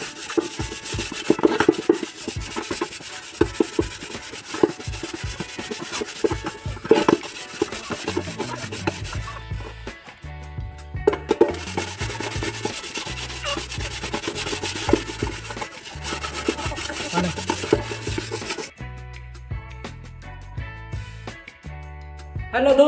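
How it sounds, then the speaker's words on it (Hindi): Utensils scrubbed by hand with wood ash taken from a stove, making repeated gritty rubbing strokes at close range. The rasping comes in bursts separated by short pauses. "यह है राख, चूल्हा में ही मिल जाता है वाला, इसी से रगड़ना पड़ता है।"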